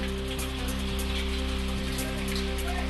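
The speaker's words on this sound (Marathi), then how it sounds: "धुळ्याच्या साक्रीमध्ये जोरदार वाऱ्यासह गारपीट" A hailstorm with strong wind over farmland in Sakri, Dhule, produces a steady, dense patter of falling ice and rain, with an even rushing wash and a low background hum.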